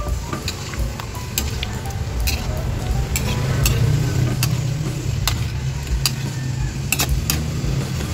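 Cut squash and sweet potatoes sizzling steadily in a pan of sautéed mixed vegetables, with scattered clicks and scrapes of a utensil stirring them, close and continuous, with a low rumble underneath.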